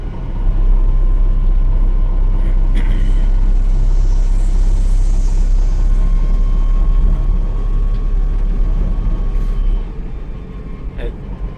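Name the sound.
Miles electric pickup EV driving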